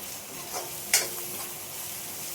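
Onion, tomato and spice masala frying in oil for a fresh vegetable dish with dal, a faint steady sizzle with one brief sharp scrape or clink near the start and no talking.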